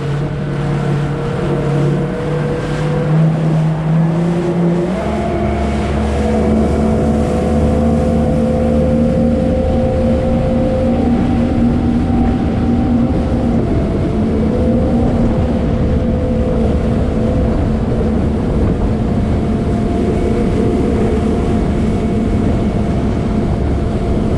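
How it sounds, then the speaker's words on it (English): Jet ski engines drone steadily on Lake Mead, a loud continuous motor whine that shifts pitch as the throttle changes, with wind and water noise and no talking. "We're gonna go out on some jet skis."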